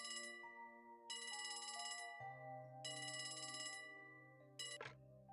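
A telephone rings inside the video game Trails From Zero, a bright electronic ringtone in repeating bursts with pauses between them, set over steady background game music with no talking.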